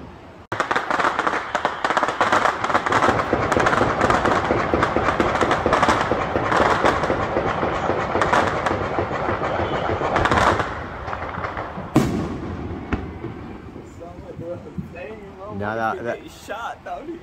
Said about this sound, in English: Oh, no, that's actually fireworks.